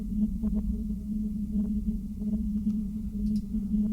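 A dark, sustained drone layer for a sound library, processed with Decapitator distortion, hums steadily with a strong low tone and faint crackling grit scattered on top, with no voices.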